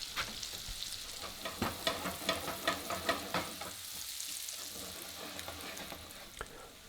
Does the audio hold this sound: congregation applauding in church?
no